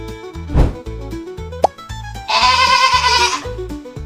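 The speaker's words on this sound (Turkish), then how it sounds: "Ben bir keçiyim." A cartoon goat bleats once in a long, wavering cry lasting about a second, loud and upfront over steady rhythmic background music with a short plop just before it.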